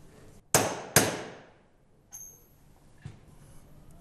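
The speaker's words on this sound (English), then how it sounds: "Use the drift tool and hammer to secure the bearing to the spindle." A hammer strikes a drift tool to seat a bearing onto a spindle during drive assembly, two sharp metallic clangs about half a second apart, close and ringing, followed by fainter knocks and a light ting.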